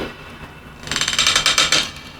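Bright, crisp clicker hits layered in a hip-hop beat arrive as a rapid, ratchet-like run of a dozen or so sharp ticks that starts partway in and stops abruptly after about a second.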